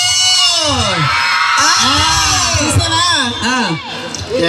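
Women outdoors at a school event shouting and screaming loudly together, overlapping rising and falling voices close by, with crowd noise and talk mixed in.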